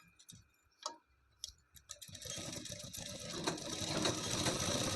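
A sewing machine stitches pleats into an elbow-sleeve blouse: a few faint, scattered clicks first, then a steady, close mechanical whirring that runs to the end, with no talking.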